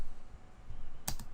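A few quick computer keyboard keystrokes typing Lua script code, two sharp clicks close together near the end over a faint room hum.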